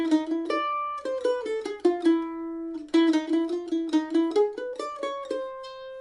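A mandolin plays a quick, bouncy phrase from the Brazilian choro tune "Não me Toques", plucked notes with tremolo-like repeats, clear and close, with a short pause midway.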